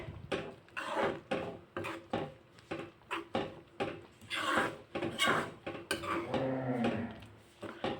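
A metal spoon stirring and scraping moong dal with husk and fresh coriander in a cooking pot, giving repeated irregular clinks and knocks, close up and fairly quiet.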